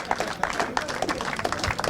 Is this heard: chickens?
no